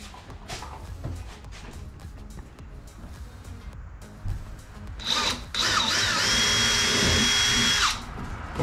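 Handheld power drill boring a 1/8-inch pilot hole for a power switch install on an Old Town Sportsman kayak, a loud steady whine of about three seconds after a brief spin-up, with background noise beforehand.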